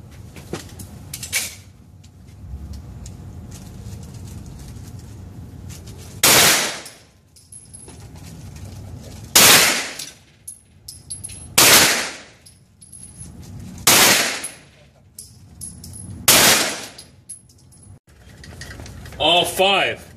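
Gunshots at a firing range, five loud, sharp reports spaced a few seconds apart, each with a short decay, and people talking quietly between them.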